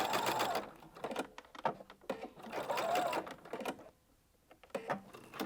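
A sewing machine back-stitches at the end of a shirred cuff, running in short bursts separated by brief pauses, close and fairly quiet.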